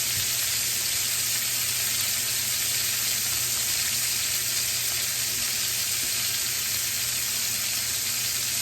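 Beef tenderloin steak sears in a hot pan with a loud, continuous, even sizzle that holds steady throughout, close up with no talking.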